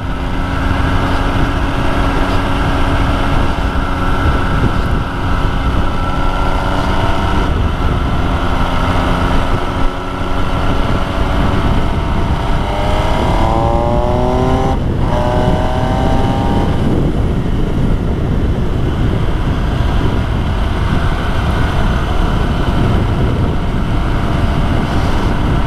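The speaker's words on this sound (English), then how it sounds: "Better take it easy. This bike is fast." An MV Agusta Brutale 800 motorcycle engine drones loudly while riding, its pitch climbing through several gear changes with brief dips between, under steady wind roar and without talk.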